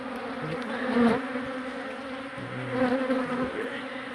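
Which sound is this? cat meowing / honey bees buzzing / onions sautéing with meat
honey bees buzzing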